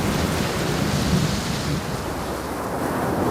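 Heavy rain pours in a dense, steady roar with a low rumble of thunder underneath, continuous throughout with no voices.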